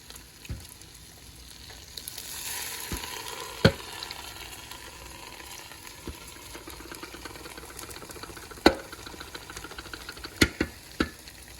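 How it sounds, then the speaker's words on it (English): Quiet, steady sizzling of chicken frying in a pan, broken by a few sharp clicks and taps of utensils against the cookware. "So you could hear it sizzling."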